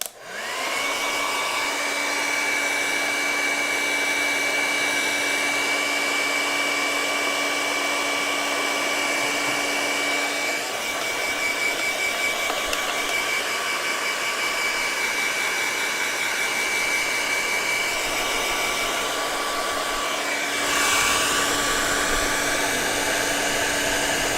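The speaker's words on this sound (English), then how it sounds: "Now I'm going to take a hairdryer to it, so plug your ears because this is going to get loud." A hair dryer used to dry acrylic paint blows loudly and steadily with a constant whining hum, running without interruption and briefly shifting pitch near the end.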